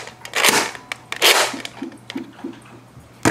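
Nerf Beast toy blaster firing in a quick burst: several sharp, loud pops and clacks close by, with two bigger shots and a string of softer mechanical clicks between them, over a low steady hum.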